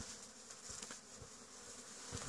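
Honeybees buzz steadily at the landing board of a Warré hive during willow blossom, a dense close hum of many insects with individual bees flitting past.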